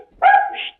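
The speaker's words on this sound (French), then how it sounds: "J'ai un chien." A small dog lets out one quick, close, loud bark that trails into a slightly higher yip.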